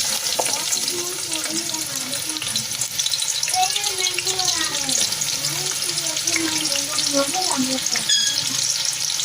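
Onions frying in hot oil in a pot give a steady, loud sizzle throughout, with some watery bubbling and stirring on top.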